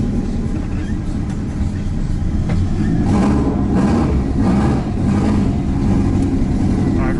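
A Mazda Miata with a swapped LS engine runs loud and close, a deep rumbling drone that surges and revs in waves, heard from inside the car with a voice speaking briefly over it.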